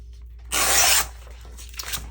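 A sheet of paper card stock is folded in half by hand, a short dry rubbing crease of about half a second standing out against quiet, followed by faint light handling.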